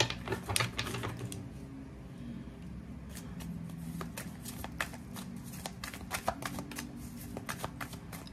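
Tarot cards being shuffled, a quiet run of fast crisp riffling clicks and taps that continues steadily with light background noise.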